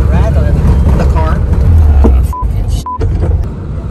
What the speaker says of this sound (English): What's all that rattling? The car?